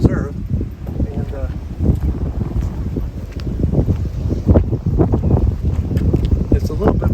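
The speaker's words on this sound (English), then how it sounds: "it's a little bit windy today, so I hope you can hear me okay." Gusty wind buffets the microphone outdoors at a quiet Florida nature preserve, a steady low rumble with fluctuating bursts that runs throughout and covers most of the scene.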